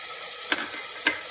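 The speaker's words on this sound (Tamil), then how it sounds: "தக்காளி அரிஞ்சு வச்சது போட்டுக்கலாம்" Chopped tomatoes hit a pan for South Indian pepper chicken kulambu, a faint steady sizzle with two brief sharp scrapes or clinks of a spoon about half a second apart, close by and with no talking.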